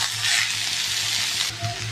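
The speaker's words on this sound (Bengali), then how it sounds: "ভালো করে ভাজা করে নিয়ে দেবো।" Ginger paste and spices frying in oil for a Bengali cauliflower stalk chorchori, a steady close sizzle with faint stirring and a soft pan knock near the end, no talk.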